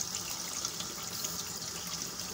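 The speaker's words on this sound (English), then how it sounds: "You can see the yellow out of the water coming out." Water runs steadily from a bathtub faucet, a soft continuous hissing splash at low volume, close by and with no talking.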